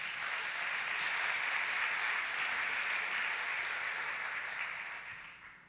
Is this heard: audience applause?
yes